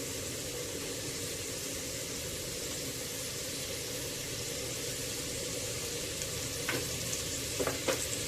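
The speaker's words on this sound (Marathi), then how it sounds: "त्यामध्ये लगेचच तेल तापलेलं आहे, त्यामध्ये लगेचच आपण कांदा घालूया" Chopped onion sizzles steadily in hot oil for an Agri-style mutton curry, a dense continuous frying hiss with a few light stirring clicks near the end and no talking.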